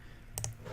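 A computer mouse clicking twice in quick succession, a pair of short, sharp, close taps over a quiet room hum while working in Android Studio.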